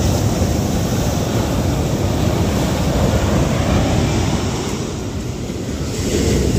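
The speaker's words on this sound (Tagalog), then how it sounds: "Ang lalaki ng alon talaga." Big surf waves on a wide river roll and crash continuously, loud and close, with steady wind noise buffeting the microphone throughout.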